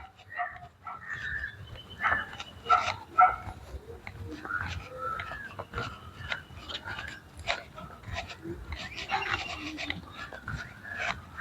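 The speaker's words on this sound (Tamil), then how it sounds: "இன்னும் ஒரு பகுதியில் கூட நாய்கள் அதிகமாக குறைத்து கொண்டிருக்கின்றன" Dogs barking repeatedly around the ruins of a large abandoned army camp in Jaffna, Sri Lanka: scattered barks and yips at moderate distance, irregular and overlapping, over a steady low outdoor rumble.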